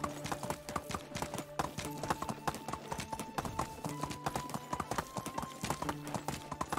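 Donkey hooves clip-clopping in the medieval survival game Medieval Dynasty, a steady run of close, distinct hoof strikes repeating throughout over a faint background of tonal game music.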